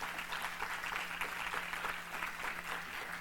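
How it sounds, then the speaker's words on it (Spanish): A conference panel crowd claps steadily, a dense patter of applause from many hands continuing throughout, heard from a moderate distance with a low hum underneath. "Un aplauso para Luisa Pérez Barbosa, por favor."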